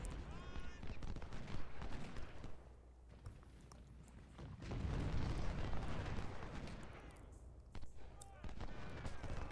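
Musket gunfire in Ultimate General: Civil War as troops shoot from the woods, a steady crackle of scattered volleys and distant booming shots rolling on throughout, with a louder rumbling surge midway and someone talking over it.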